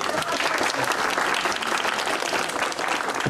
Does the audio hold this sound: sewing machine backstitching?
no